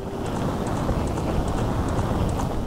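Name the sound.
Ganondorf's horse galloping in Zelda Ocarina of Time video game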